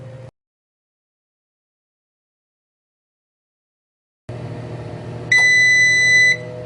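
An air fryer oven beeps once the preheat finishes, a single sustained electronic tone lasting about a second over a low steady hum from the running appliance, after a stretch of silence.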